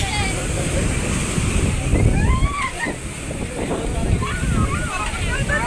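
Lake waves surge and slosh against a house in rough weather, a loud, continuous churning of water with gusty wind, while a person talks over it.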